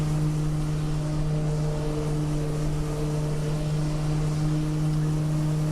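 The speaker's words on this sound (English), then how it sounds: "Listen to that turboprop." A turboprop aircraft in Microsoft Flight Simulator during an eSTOL competition gives a constant, even propeller and engine drone with a low steady hum and no change in pitch.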